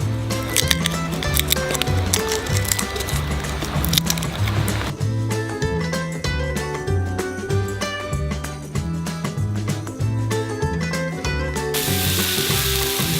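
Garlic and onion sizzle steadily in bacon fat in a pot over a campfire, a loud close crackle with rhythmic stirring and scraping throughout, no talk.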